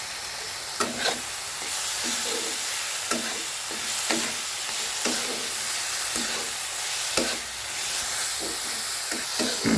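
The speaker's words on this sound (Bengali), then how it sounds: "মশলাটা কি সুন্দর আমি কষে নিয়েছি।" Spice masala fries in a pan with a continuous hissing sizzle and regular clinks and scrapes from stirring, close and prominent.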